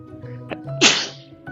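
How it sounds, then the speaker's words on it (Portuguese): A person with rhinitis lets out one sharp, breathy sneeze near the microphone, over a low electrical hum in a quiet room. "Não vou editar para cortar meu espirro, não."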